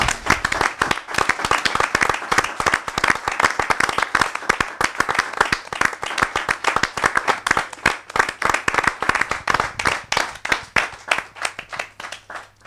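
A church congregation applauding to acclaim God: loud, dense, rhythmic clapping from many hands, sustained and close, with some faint voices mixed in.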